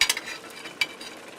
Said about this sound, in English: I'm going to cook this covered on medium-low for about 10 minutes till these pork chops are cooked through